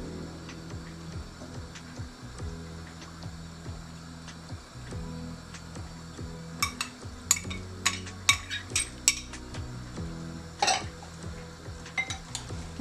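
Spoons clink and scrape against a bowl while beetroot and potato salad is tossed and mixed, a steady low rubbing under scattered sharper metallic ticks that cluster toward the end.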